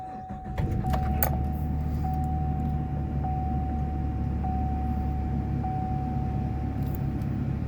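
A 2018 Chevy cargo van starting up: a brief key jingle and clicks, then the engine catches and settles into a loud, steady close idle with a faint chime ticking over it.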